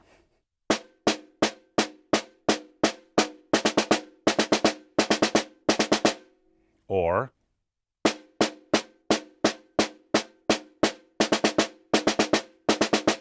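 Snare drum played as a single stroke four rudiment at a fast tempo: crisp groups of four rapid strokes repeating steadily, with a short sustained tonal sound in the middle during a pause before the strokes resume.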